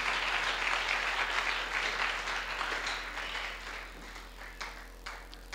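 A church congregation applauds and cheers, with dense, sustained clapping that fills the room and slowly thins toward the end, over a low steady hum.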